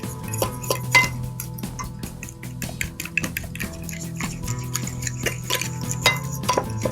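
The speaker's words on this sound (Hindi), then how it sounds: "बहुत अच्छे से मिक्स करेंगे।" A spoon stirs sugar into a mixture in a bowl for baker khani parathas, making quick, repeated clinks and scrapes against the bowl in an uneven rhythm, close and clear, with no talking.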